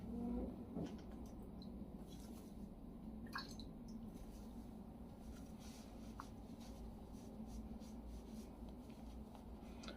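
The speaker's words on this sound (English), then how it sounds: "Just a quick rinse." A razor is rinsed under running water after a shave, a steady low wash of water with small drips and clinks, close and continuous with no talking.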